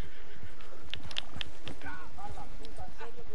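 Horse in the Red Dead video game answering a call, with hoof clip-clop and a neigh among game sounds, heard under lively talk and laughter from players.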